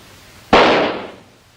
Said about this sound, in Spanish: Cuando el petardo explotó, hizo mucho ruido, ¿no es así?